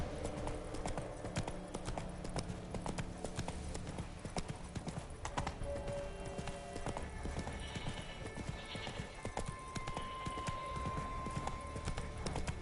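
Horse hooves clip-clop at a steady trot in The Witcher 3 on PS5, a continuous rhythmic patter mixed with game ambience and an occasional whinny, with faint background talk.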